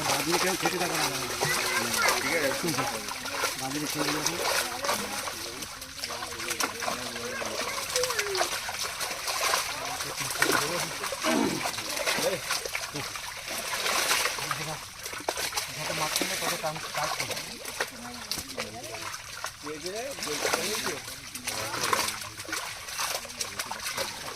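Water splashes and trickles steadily as a fish net is poured back into a village pond, a continuous wet churning that runs throughout while people talk nearby and birds or chickens call faintly in the background.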